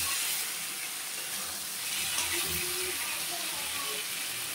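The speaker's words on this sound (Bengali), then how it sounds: "আমি হালকা একটু জল দেব।" A splash of water poured into a pan of Bengali fish curry with tomato and onion, giving a steady soft hiss and trickle that holds for several seconds, close and moderately loud.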